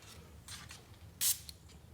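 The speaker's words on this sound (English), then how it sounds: "Take your spray from far away, 1 little spritz." A single sharp spritz from a spray bottle onto a Jeep WK2 headlight while Lamin-X protective film goes on, a brief close hiss standing out over a quiet room with softer spray-like hisses just before it.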